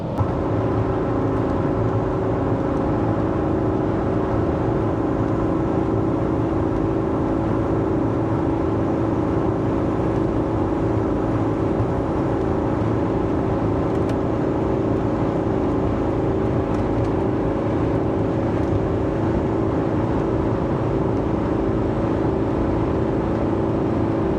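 A 30-plus-year-old Mercedes W126 cruising on an interstate highway, a steady, unbroken interior drone of engine, tyre roar and wind at constant speed, with no talking.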